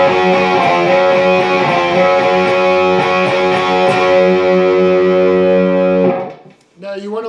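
Distorted electric guitar playing the intro strum pattern of a song, with loud rhythmic chord strikes that ring for several seconds before stopping, then a short bit of speech.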